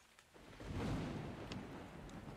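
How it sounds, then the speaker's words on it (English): Thunder in the video game Ark, a faint low rolling rumble that swells and fades over a couple of seconds, heard alone. "There's thunder."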